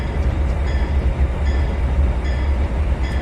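SD80 diesel locomotive running in the Trainz 2019 railroad simulator game: a steady, loud low engine drone and rolling rumble with faint higher tonal hints, continuous and unbroken, no voices.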